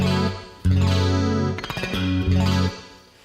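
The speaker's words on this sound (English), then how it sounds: "you can hear on that reverb, that's a room, a shortish room." Distorted electric guitar chords ring out in short bursts, each trailing into a brief, tight room-like reverb tail before the next strum.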